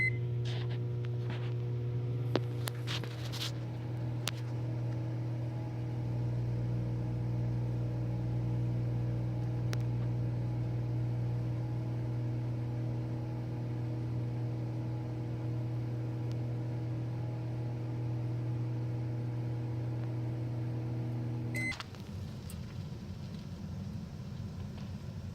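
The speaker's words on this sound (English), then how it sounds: "Now let's heat a marshmallow in the microwave." A microwave oven hums steadily for over twenty seconds while heating a marshmallow, with a few clicks near the start and an abrupt drop in the hum as it shuts off near the end.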